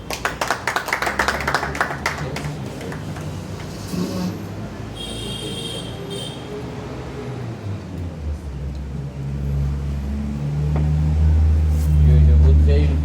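Scattered audience clapping at an art exhibition opening, sharp and fairly close at first, then thinning out as murmuring voices and a low rumbling hum take over toward the end.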